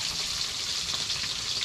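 Hot cooking oil left over from frying fish sizzles steadily at close range, a dense continuous hiss with no talk over it.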